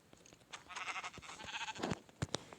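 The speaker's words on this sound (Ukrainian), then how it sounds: "О, овечка. Вівця." A Minecraft sheep bleats in a wavering, slightly synthetic tone, followed by a few sharp clicks and taps nearby.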